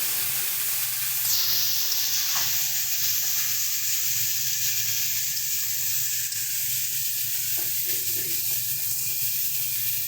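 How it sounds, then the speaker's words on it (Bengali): Spice paste with tomato frying in a wok with a little water added, giving a loud continuous sizzle and hiss throughout, close up, with occasional light scraping of stirring and no talking. "অল্প অল্প করে জল দিয়ে মশলাটা ভাজবে, না তো মশলাটা কিন্তু কড়াইয়ের গায়ে লেগে যাবে"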